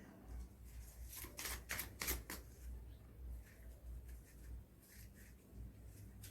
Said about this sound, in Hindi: मैं एक बार और शफल कर लेती हूँ